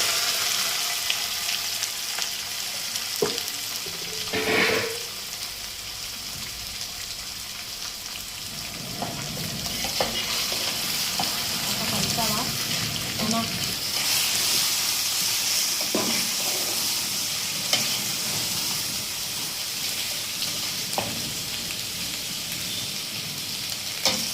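Two kilograms of chicken frying for an Andhra-style chicken masala fry, a steady sizzle in the pan with occasional stirring knocks and scrapes, close and continuous without speech.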